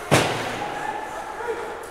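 A hard ice hockey shot fired from the point during a Yellowstone Quake versus Great Falls Americans game lands as one sharp, loud crack near the start. A sustained, echoing arena murmur follows and lingers underneath.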